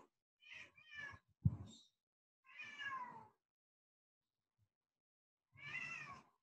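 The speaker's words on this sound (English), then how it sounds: "excuse my cat" A house cat meows several times in short separate calls, close and clear, with quiet gaps between them.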